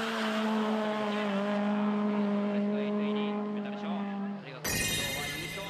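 A drift car in a D1SL drift competition holds a loud, steady engine drone with sustained tire noise, then cuts off abruptly into a different burst of sound, while a commentator speaks over it.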